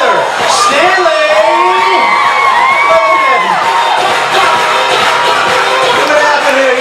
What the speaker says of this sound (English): How about a round of applause for Tom and Heather Stanley?